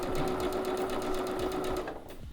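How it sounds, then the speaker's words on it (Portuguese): A sewing machine runs steadily while stitching triangle quilt pieces, a fast, even mechanical whir with a constant hum, close by, slowing slightly near the end. "a gente vai costurar, a gente vai para a máquina"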